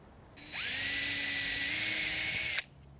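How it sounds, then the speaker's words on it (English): A power drill whirs up to speed and runs steadily for about two seconds, pre-drilling holes in wood, before stopping abruptly. "I'm going to pre-drill the holes once again"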